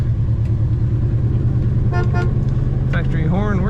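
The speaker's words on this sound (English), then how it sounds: "Factory horn working." Factory horn of a 1970 Chevrolet Chevelle sounds in a couple of short honks over steady engine and road rumble inside the car, with talk nearby.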